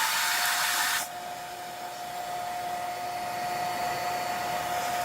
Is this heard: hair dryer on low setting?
yes